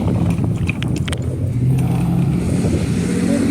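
Cars passing in road traffic, heard as a continuous rushing roar of tyres and engines with a few vehicles sweeping by nearby, no talking.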